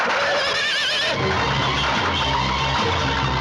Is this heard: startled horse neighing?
yes